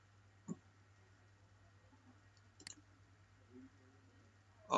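Computer mouse clicks in a quiet room, a few sharp isolated clicks spaced seconds apart over a low steady hum, while a database page is handled in phpMyAdmin.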